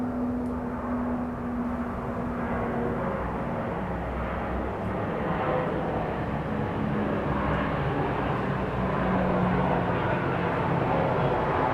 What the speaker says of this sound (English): I can actually hear with clarity the plane above my head